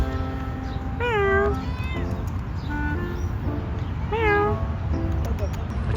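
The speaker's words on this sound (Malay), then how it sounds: "Manjanya kucing ni." A cat in Medina gives two clear, drawn-out meows a few seconds apart, close and fairly loud over a low background rumble.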